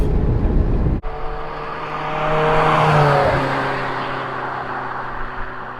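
Ferrari 360 engine revving close by, loud and sustained, with a sharp click near the start before the tone climbs and then eases back down.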